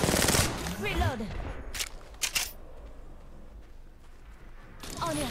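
Gunfire in the Apex Legends video game: a few sharp bursts of shots cut through a game character's spoken voice lines, with steady background noise.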